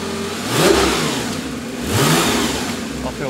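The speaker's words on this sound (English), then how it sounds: "Am I allowed to press the throttle?" A motorcycle engine revs twice as the throttle is blipped, each surge swelling loud and close before dropping back toward idle, with no talk over it.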